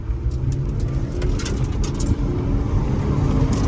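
An old sheriff patrol car pulls away, its engine a steady low rumble close by with faint chirps over it and no talking.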